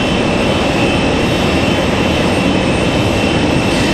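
A Boeing 737 Max 9 jet departs from stormy Raleigh-Durham International bound for Reykjavik, its engines a loud, steady, broadband roar for the whole stretch.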